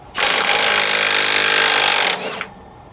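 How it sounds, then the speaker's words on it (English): A stubby impact gun removes nuts on a Prevost bus near the rear differential, giving one loud, close, continuous hammering burst of about two seconds, a brief tail, then a short rattle. "The little impact stubby usually does a pretty good job for these to take them right off."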